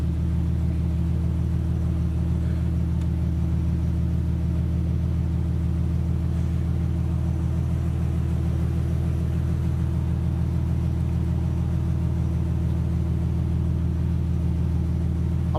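Modded 600hp Lexus SC300 engine idling steadily after a cold start, a constant low rumble with a fast, even pulsing throb and no revving, heard close with no talk.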